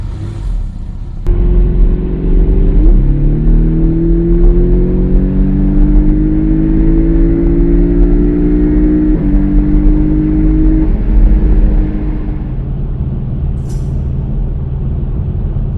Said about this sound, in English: while we're cruising through the Shenandoah Valley here